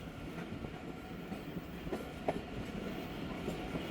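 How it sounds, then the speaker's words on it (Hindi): Train pulling into Mehrabpur railway station, a steady rumbling roll with faint wheel clicks and a brief squeal, moderately distant and continuous throughout. "ट्रेन इंटर हो रही है मेहराबपुर रेलवे स्टेशन"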